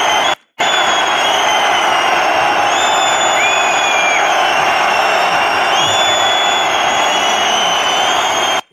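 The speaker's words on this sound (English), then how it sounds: "This kind of booing is probably my first time in my life hearing this loud." Loud stadium crowd booing Real Madrid players, a dense sustained roar filling the whole stretch apart from a brief cut near the start, with whistles and shouts rising over the din.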